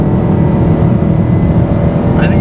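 Loud, continuous engine roar from the Ford Mustang GT, a 720 HP car, on an open road, steady and close throughout, with a faint whine near the end.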